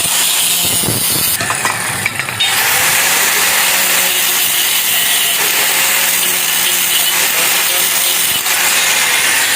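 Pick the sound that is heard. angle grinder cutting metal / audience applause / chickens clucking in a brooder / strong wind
angle grinder cutting metal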